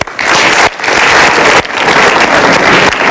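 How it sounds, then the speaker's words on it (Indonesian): Studio audience at a televised motivational talk show applauding, a dense, loud wash of clapping with short breaks between bursts. "kita berikan tepuk tangan dulu."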